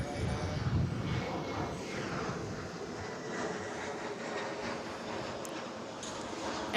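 An Airbus A330 jet airliner at Sydney Airport gives off a continuous broad engine roar at moderate distance, holding steady throughout without pauses.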